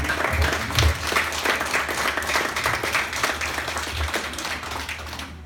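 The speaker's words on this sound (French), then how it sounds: "vous pouvez tous vous applaudir" A crowd claps in a continuous, dense burst of applause indoors at a welcome event, steady and fairly loud and tapering slightly toward the end, with no speech over it.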